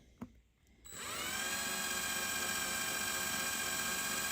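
A power drill winds up after a brief knock, then runs steadily at a high, whining pitch, loud and close, drilling into a die-cast Hot Wheels toy car, with no talking.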